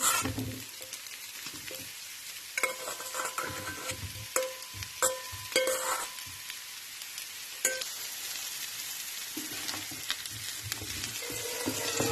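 Butternut squash fries in a pan with a continuous sizzle, punctuated by several clinking, scraping stirs of a utensil close up, no talking.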